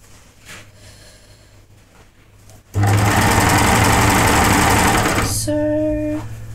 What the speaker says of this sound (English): this is how quickly cover stitches work.